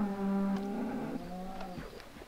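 Cows moo in the Minecraft video game, several drawn-out bovine calls in quick succession, loud and close with no talking over them.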